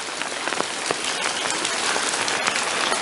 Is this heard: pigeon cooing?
no